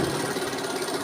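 A sewing machine runs in one steady, continuous burst as it stitches a wide piece of fabric, close up, with an even mechanical whir and no voices.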